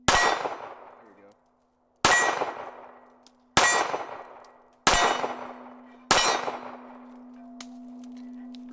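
.380 ACP rounds from a Sergeant Major Munition pistol striking a steel target, five bright ringing clangs spaced about a second apart, each ringing out and decaying before the next.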